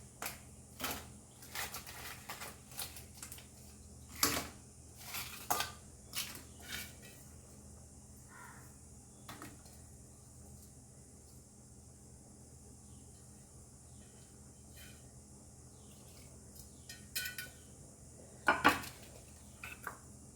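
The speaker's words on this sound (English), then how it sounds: "And now we will add our crabs and the chilies." Crabs and chilies go into a cooking pan for a Goan crab and mango xacuti, making soft, scattered clinks, clatters and scrapes in a quiet kitchen, with a final louder clatter.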